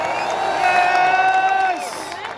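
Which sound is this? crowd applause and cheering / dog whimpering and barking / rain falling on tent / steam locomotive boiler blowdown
crowd applause and cheering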